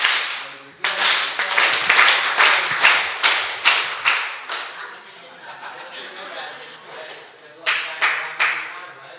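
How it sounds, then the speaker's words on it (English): An audience at a peak-performance talk claps their hands together in several sharp, loud bursts of overlapping claps, separated by brief pauses and a little chuckling. "I want you to clap your hands together"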